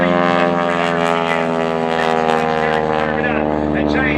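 A loud, steady propeller aircraft engine drone at an airshow, mostly propeller noise, with a strong harmonic buzz, holding constant throughout as if passing nearby.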